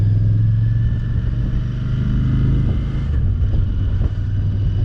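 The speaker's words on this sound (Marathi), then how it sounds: "या सगळ्या गाड्या आल्या आहे काय?" Vehicles passing on the Leh–Srinagar highway, heard as a steady, loud engine rumble from cars and motorcycles with no break, close by and without talk.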